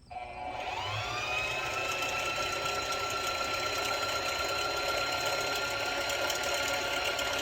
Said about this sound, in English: now it disengages the needle, and it'll just wind the bobbin